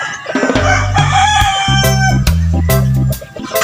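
Roosters crowing loudly and close at a small gamefowl farm, several overlapping drawn-out crows with scattered clucks from the flock around them.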